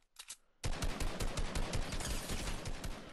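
Gunfire in Fortnite: a couple of quiet shots, then a sudden, sustained burst of rapid automatic fire, loud and dense, rattling on steadily until the end.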